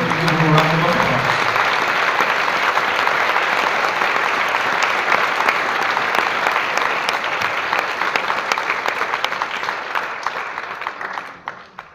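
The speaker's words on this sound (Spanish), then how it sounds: "Give him a round of applause." A church congregation bursts into sustained applause at a Spanish-English Hispanic service, dense clapping filling the room for several seconds before gradually thinning out and fading near the end, loud and close.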